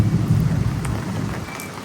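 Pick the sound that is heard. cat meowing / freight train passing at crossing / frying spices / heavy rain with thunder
heavy rain with thunder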